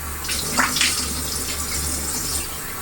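Water runs steadily from a hot-and-cold sink faucet in Bangkok, a close continuous hiss with a brief louder splash near the start.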